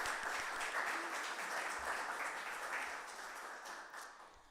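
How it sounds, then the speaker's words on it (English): Guests at a charity awards evening give a round of applause to thank corporate sponsors. The dense, even clapping holds steady, then gradually softens as it dies down. "We'd like to give all of them a huge thank you and round of applause."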